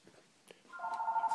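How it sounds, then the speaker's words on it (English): An electronic telephone ring sounds faintly and briefly, a steady tone starting about halfway through after a few soft knocks and rustles, with no one speaking. "whoa, the phone is ringing."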